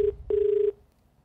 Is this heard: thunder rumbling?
no